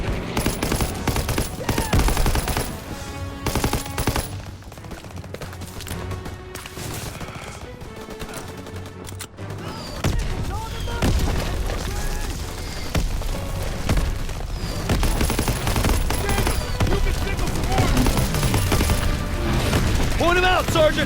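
Gunfire fills a Call of Duty: WWII battle, with rapid bursts of machine-gun fire, single shots and booming blasts over a music score, along with voices shouting throughout.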